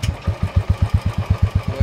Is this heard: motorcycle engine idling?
yes